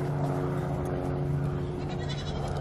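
A baby goat bleats in a steady, nasal, sustained call, close and loud, with a constant background hum and no talking.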